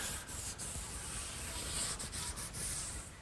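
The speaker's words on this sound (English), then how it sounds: "Now some final sanding with some 220 grit sandpaper" Steady scratchy rubbing of 220 grit sandpaper on mahogany, continuous back-and-forth strokes at close range with no voices.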